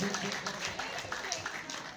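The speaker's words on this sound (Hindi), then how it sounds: "और इतनी दमदार प्रस्तुति पर दमदार तालियों का निवेदन मेरा बिल्कुल आपके सदन से।" An audience at an award ceremony in Indore applauds after a performance, a continuous mass of clapping from a seated crowd, fairly distant and even, with faint voices mixed underneath.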